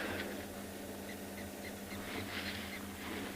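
Faint, distant birds call in a quiet South African bush at morning golden hour, a few soft, repeated chirps over a low, steady background hum.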